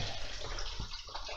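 Coolant water draining out of a Jeep WJ 4.7 water pump into a drain pan, a brief steady splashing pour at low level.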